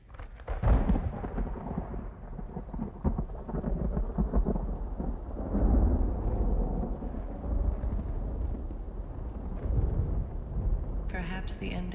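Rain and thunder over a desert in the video game Myst Uru, with rolling thunder rumbling repeatedly over steady rainfall, loud and sustained throughout.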